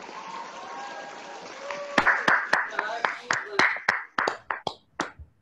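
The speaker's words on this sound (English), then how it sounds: "So, can we have a big round of applause for him?" After a stretch of quiet voices, a few people in a virtual keynote session clap in sparse, distinct individual claps that are close and irregular, rather than a full crowd.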